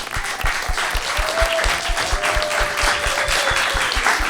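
A live audience applauds a performer after a song, warm and continuous clapping with a low rhythmic thump beneath it and a few voices rising through the crowd.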